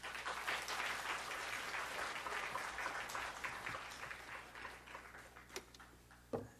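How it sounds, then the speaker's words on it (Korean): A church congregation at a revival meeting for pioneering churches, held at Jeil Munchang Church in Masan, claps in a steady, dense round that gradually thins and fades, with one sharp knock near the end. "이 시간 강사 목사님 나오실 때 큰 박수로 환영해 주시기 바랍니다."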